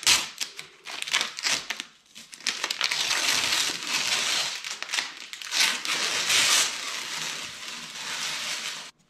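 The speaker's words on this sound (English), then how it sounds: "All right, let me go ahead and take off this tape here." Tape peeling off a half-inch plywood shelf, close and loud, in several long ripping pulls with short crinkling bursts between them, no talking.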